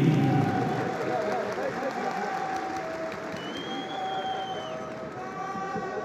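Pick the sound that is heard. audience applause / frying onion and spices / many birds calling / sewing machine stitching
audience applause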